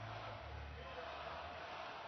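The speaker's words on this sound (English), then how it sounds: "The crowd chanting no goal here." Hockey arena crowd at an ECHL game, a broad massed roar of fans chanting together, steady and moderately loud from start to finish.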